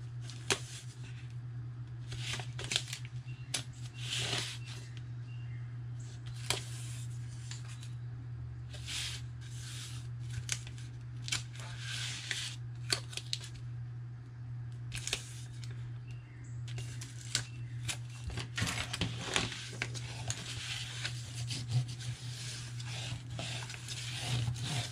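Scissors snip through paper at an angle while a paper purse is crafted, giving a quiet run of crisp cuts and rustles over a steady low hum, with no talking.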